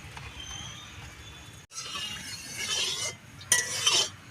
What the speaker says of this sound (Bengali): কড়াইটা আমার গরম হয়ে গিয়েছে